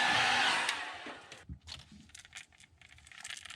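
Heat tool blowing hot air to set crackle paint on a crankbait lure, a steady close whooshing hiss that cuts off after about a second and a half, followed by light handling clicks and rattles.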